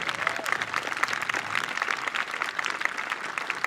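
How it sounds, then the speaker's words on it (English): Graduation audience applauding assistant principals at a middle school ceremony, steady dense clapping from a sizable crowd, moderately distant and continuous for several seconds. "Can you please give them a round of applause?"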